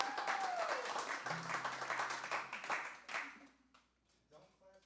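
An audience at a live country concert breaks into applause, with claps and cheers over a lingering guitar note, then the clapping thins out and fades into near quiet as a few sounds remain.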